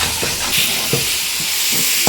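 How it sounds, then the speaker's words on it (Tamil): Curry leaves and tomatoes sauté in a pan for a mutton kuzhambu, a steady sizzle broken by several short scraping stirs at close range. "கருவேப்பிலை போட்டு நல்லா வதக்கிக்கலாம் ஃப்ரெண்ட்ஸ்"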